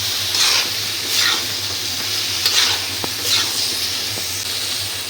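Flat beans and potatoes hiss and sizzle in a hot pan with spices, the crackle swelling in waves as they are stirred, with a few sharp clicks of a utensil.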